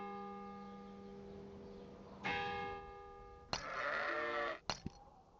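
Sheep bleat at a sheep farm in the video game Patrician 3, several drawn-out, wavering calls in succession over a faint tonal background, clear and fairly close.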